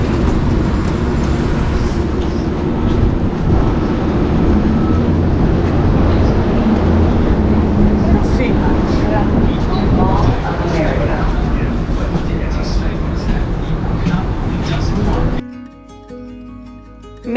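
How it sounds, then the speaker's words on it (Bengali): A Blue Line metro train near Minneapolis pulls into a station with a loud, continuous rumble lasting about fifteen seconds, with voices over it, before the sound drops away abruptly. "এখন ব্লু লাইন মেট্রো চলে এসেছে"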